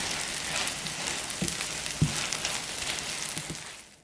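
Steady crackling sizzle of mashed tofu frying in a pan over medium-high heat, close and continuous, with a few light taps of a utensil against the pan.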